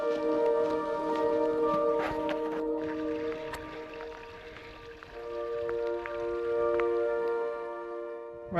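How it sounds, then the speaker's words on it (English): Rain falls on an open moorland hillside beside a tarn, with soft scattered drops and ticks under a steady outdoor hiss that fades slightly midway and then returns. "Well, it's raining"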